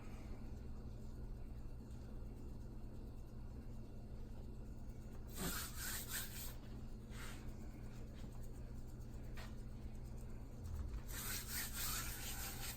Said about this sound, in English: Rub it into that meat.